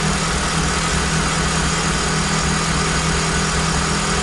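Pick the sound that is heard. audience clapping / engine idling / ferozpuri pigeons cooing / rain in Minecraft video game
engine idling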